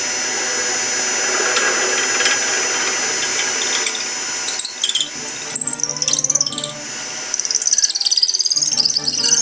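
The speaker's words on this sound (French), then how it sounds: "Alors on va continuer tout doucement le perçage." A wooden pen blank is drilled slowly, giving a steady grinding whir with birdsong in the background. The drilling eases off partway through, then short bursts and scraping follow as the bit is backed out.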